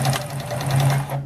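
Steady close whir of a Morse Fotomatic III sewing machine sewing in reverse, with a quick repetitive needle beat that stops abruptly at the end.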